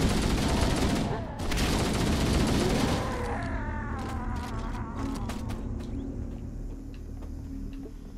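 Gunfire in the Halo: Combat Evolved Anniversary campaign, dense and rapid for about three seconds, then thinning into scattered shots and chirping game effects that fade toward the end.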